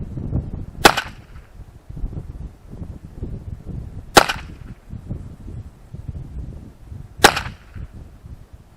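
Three sharp, loud cracks from a Remington Nylon 66 .22 rifle firing Remington Gold bullets, evenly spaced about three seconds apart outdoors, with a low rumbling background between the shots.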